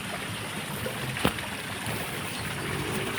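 Water trickles over a small falls in a steady, even wash of noise, with a single brief knock partway through and no voices.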